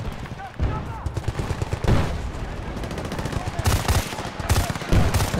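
Battlefield Bad Company 2 snow mission gunfire: rapid automatic bursts and heavier blasts rattling in quick succession, loud and near, while someone talks over the shooting.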